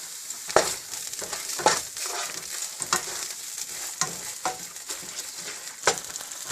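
Onions and tomatoes for Bombay pav bhaji fry in a pan with a constant close sizzle, while a spoon stirs and scrapes in periodic strokes about once a second, with no talking.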